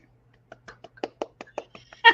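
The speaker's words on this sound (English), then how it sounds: "Applause for Brad" A short burst of applause from one or a few people: about a dozen quick, sharp hand claps in an uneven rhythm, close and fairly dry, ending with a brief vocal sound.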